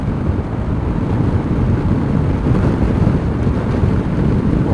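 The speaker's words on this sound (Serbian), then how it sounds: "Opet jak vetar." Strong wind roars steadily across the microphone while riding a Sym Joyride 300 scooter on a highway toward Belgrade, a loud, continuous low buffeting with no voices.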